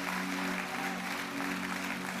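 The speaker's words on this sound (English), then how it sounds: "Keep clapping." A church conference audience applauding a couple, dense sustained clapping that fills the hall without a break, with a steady tone sounding underneath.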